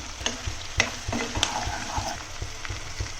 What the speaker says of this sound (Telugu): ఆనియన్స్ కాస్త ఫ్రై అయ్యాక పచ్చిమిర్చి, కరివేపాకు వేసుకోవాలి